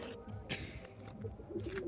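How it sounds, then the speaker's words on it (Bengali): Madras pigeons in a home loft, with soft, low cooing and rustling close by, faint and intermittent over a quiet background. "প্রচুর একদম ছটফটে পায়রা"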